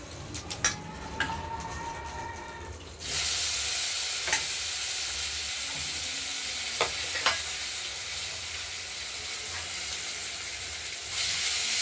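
Bay leaf, dried red chili, black cumin and cumin hit hot oil and burst into a loud steady sizzle that carries on to the end, with a few sharp spoon scrapes against the pan and no voices.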